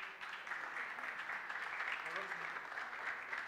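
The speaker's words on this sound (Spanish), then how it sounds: "Un aplauso adelante." A crowd at a round-table panel event claps steadily, somewhat distant and muffled, with no pauses.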